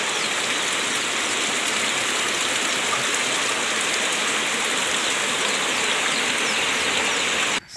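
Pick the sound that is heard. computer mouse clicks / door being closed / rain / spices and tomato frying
rain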